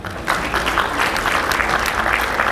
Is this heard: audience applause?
yes